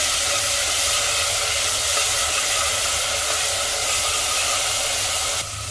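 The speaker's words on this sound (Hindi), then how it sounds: "इसमें डाल देंगे जो हमने ये मेथी और लहसुन पीस के रखी है, और इसे 1 मिनट के लिए भून लेंगे" Ground fenugreek and garlic frying in hot oil in a pressure cooker, a loud, steady hiss close up that runs without a break and eases slightly at the very end.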